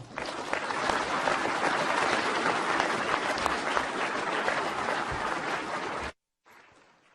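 A conference audience at ISSCC 2014 applauding to welcome Chairman Ming-Kai Tsai, sustained even clapping for about six seconds before cutting off abruptly into quiet room tone.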